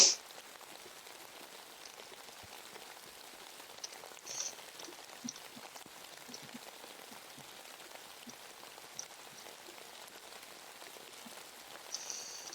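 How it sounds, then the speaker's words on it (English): A rain sound effect plays on a game development livestream: a steady, soft patter of falling drops with occasional slightly louder taps, even and continuous throughout, with no talking. "And the rain sound effect, so thank you."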